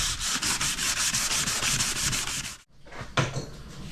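Wet-and-dry 400-grit paper rubbed on a plastic fuel tank from a 2003 Yamaha YZ450F motorcycle, a steady rhythmic hiss of back-and-forth strokes, close up, with a short break and then more sanding.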